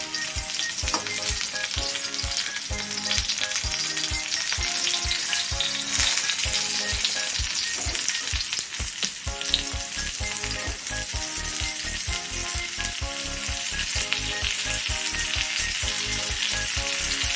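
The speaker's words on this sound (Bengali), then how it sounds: "এবার 5 মিনিট ধরে ভাজলেই হয়ে যাবে।" Bitter gourd, already mostly boiled, fries in a pan with a steady, close sizzle that runs without a break, while a regular rhythmic thumping continues underneath.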